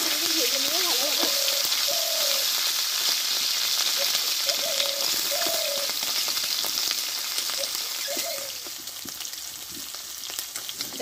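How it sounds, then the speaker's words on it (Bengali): Gochi fish frying together in a pan of hot oil, a dense, steady sizzle and crackle lasting throughout, with a few brief high whistling tones near the start. "মাছগুলো আমি সব একসাথে ভেজে নেবো ভালোভাবে"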